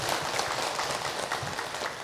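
Applause from a women's audience at an Islamic preaching program, a thick continuous patter of clapping held steady for a couple of seconds.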